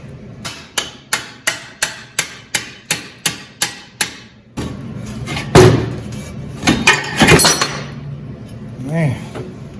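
Hammer blows knock a rusted axle out of a wheel from a burnt Suzuki Katana motorcycle: about a dozen sharp, evenly spaced metallic strikes for four seconds, then clattering, shifting metal and scattered knocks.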